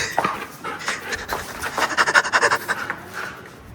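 An outdoor husky pants rapidly and whimpers up close, with a quick run of panting breaths in the middle and occasional soft yelps.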